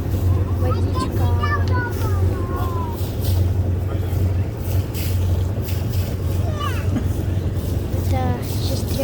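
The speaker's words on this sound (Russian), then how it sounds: "Вот мы тут на яхте, ну, на катере." A motorboat ride on open water, with a steady low engine drone and wind noise running throughout. A voice and an adult's voice chatter over it at close range.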